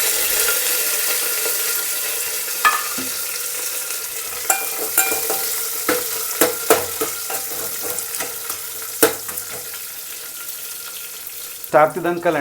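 Mustard seeds crackle in hot oil for a buttermilk curry tempering, sharp scattered pops over a continuous sizzle, ending with a louder burst of spattering.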